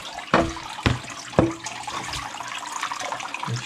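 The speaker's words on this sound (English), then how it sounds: "I'm going to pour this on the Miller table" Water mixed with gold pay dirt is poured onto a Miller table, opening with a few sharp knocks before a steady, close splashing trickle.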